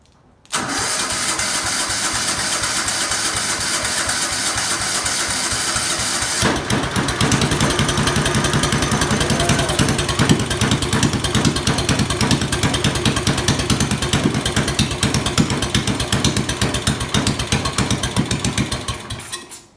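Restored COOT ATV engine starts up and runs, a loud close rattling idle with rapid rhythmic chugging pulses that grows steadier after a few seconds and then cuts off at the end.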